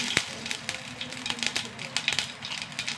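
Mustard seeds and dried red chillies crackling in hot oil in a pan, with dense irregular pops and snaps close up and a faint voice speaking underneath.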